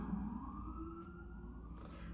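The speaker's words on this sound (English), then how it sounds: "more sirens." Emergency vehicle sirens wail faintly in the distance, a thin sustained tone over quiet low background rumble, brief and far off.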